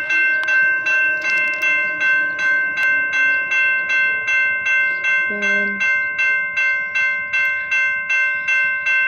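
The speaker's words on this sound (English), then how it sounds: "We got another train coming." A passing BNSF freight train, a 120-car stack train near Ethel, Missouri, with steady rhythmic clickety-clack of wheels on rail joints, a brief low horn-like tone partway through, loud and close.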